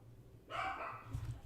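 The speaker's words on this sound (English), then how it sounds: "My dog's barking." A house dog gives a single short bark indoors, fairly faint and slightly distant, followed by a softer low thump.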